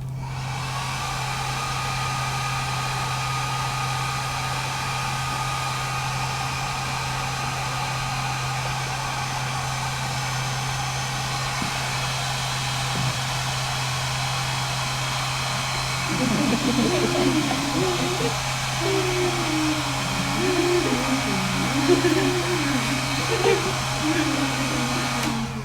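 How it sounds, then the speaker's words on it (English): A hair dryer blows steadily on a styling wig at a convention panel, a constant loud whir running throughout, with people talking over it in the latter part. "And then take your hairdryer."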